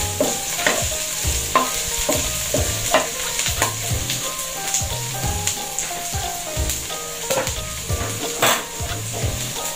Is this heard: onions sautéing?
yes